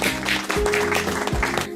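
Children in a classroom clap their hands during a game, a dense burst of applause-like clapping with a few louder claps, while an adult voice and music tones run underneath.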